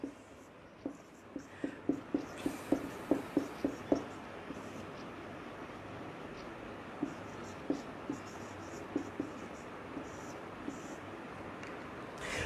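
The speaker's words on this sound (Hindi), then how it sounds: "उसको मैं यहाँ पे लिख दे रहा हूं।" Handwriting a name with a pen or chalk, a quick series of scratchy strokes in a clustered burst followed by a few more spaced strokes, faint and close, with a quiet hiss behind.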